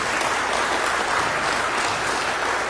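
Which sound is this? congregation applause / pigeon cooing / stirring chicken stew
congregation applause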